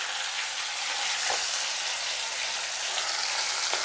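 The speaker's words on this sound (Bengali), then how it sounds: "এখন পুরোপুরি আমাকে সেটা ভাজতে হবে।" Pre-boiled resmi kebab frying in a pan, a loud, close, unbroken hiss of hot oil with a couple of faint pops and no talk.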